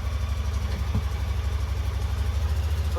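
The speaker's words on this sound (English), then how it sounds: "sounds like it's got a muffler delete" An engine running with its muffler deleted gives a loud, steady, throbbing idle with a deep rhythmic low pulse, close by and alone with no talk.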